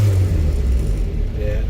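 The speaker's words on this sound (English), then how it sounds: "So you'll notice when I rev it, it sort of peaks at about 90, then it'll start bypassing." A Ford Escort Mk1 fitted with a YB engine revs loudly and steadily at close range, a deep continuous rumble that rises and settles, with a voice talking over it.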